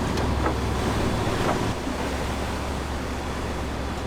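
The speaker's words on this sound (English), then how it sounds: "Crazy waves." Rough water of the Niagara River crashes and churns loudly against a sailboat, with heavy wind buffeting throughout and no voices.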